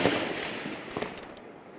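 Sniper rifle fire from South Korean special forces marksmen on a target range, one sharp report that trails into a long, fading echo, with faint distant cracks toward the end.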